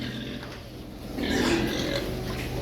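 Pigs grunt and oink on a farm during vaccination with a needle-free injector, a brief snuffling burst swelling midway over steady barn background noise.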